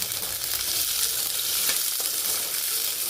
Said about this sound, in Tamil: இதை வந்து இதே மாதிரி கொஞ்சம் ஷேலோ ஃப்ரை பண்ணி எடுத்து வச்சுக்கோங்க